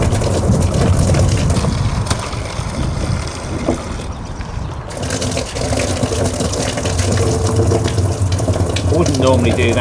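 A solar-powered pump pushes collected rain water around allotment tanks, giving a steady mechanical hum with splashing, running water that swells and eases, heard up close while a person speaks at points.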